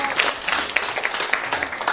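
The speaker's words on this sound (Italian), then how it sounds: "un grandissimo applauso alla professoressa Pinto" Steady audience applause fills the room for professoressa Pinto on an Italian children's fairy-tale game show, dense clapping carrying on evenly without any voice over it.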